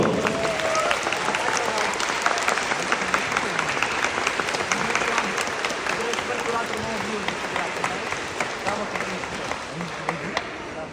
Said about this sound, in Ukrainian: Ваші оплески Олександр Сапронов.